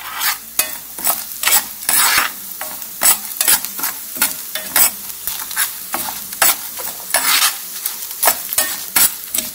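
Black peppercorns, cumin and dried red chillies roast in a pan, stirred constantly. Close, loud scraping and rattling strokes repeat over a steady dry sizzle, with no voices.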